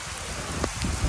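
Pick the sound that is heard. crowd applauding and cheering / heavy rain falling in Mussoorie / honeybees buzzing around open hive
heavy rain falling in Mussoorie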